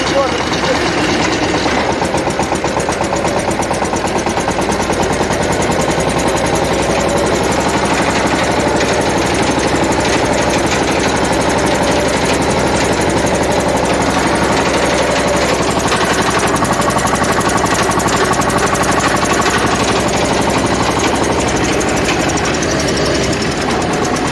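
A mini tractor engine runs continuously and loudly up close, with a rough, knocking mechanical rattle throughout, as it works soil.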